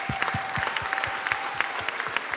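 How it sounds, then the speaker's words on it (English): An audience at a community meetup applauds steadily, a dense wash of many hands clapping at close range with no voices over it. "Let's give them a round of applause for coming."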